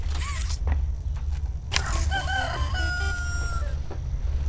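A rooster crows in the Poppy Playtime Chapter 3 video game, one drawn-out call standing clearly above a low rumble, with brief creaks before it.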